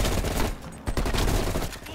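Rapid gunfire crackles in Call of Duty Black Ops Cold War, a dense burst of overlapping loud shots filling the whole moment with sharp repeated reports.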